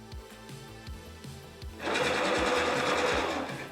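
A homemade gearbox motor for a miter saw elevator switches on partway through after a few faint clicks and thumps, then runs with a loud, whirring mechanical drone and rattling, close to the listener.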